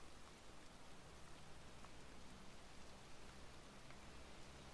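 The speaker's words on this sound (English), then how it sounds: "Still heavy rain." Heavy rain in the video game Heavy Rain pours steadily as a faint, even hiss of falling drops, with no voices over it.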